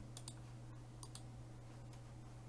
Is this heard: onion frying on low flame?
no